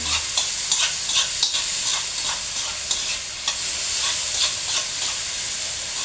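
Eggs and tomatoes stirred in a hot pan. A continuous loud sizzle runs throughout, punctuated by repeated scraping and clinking stirs. No voices.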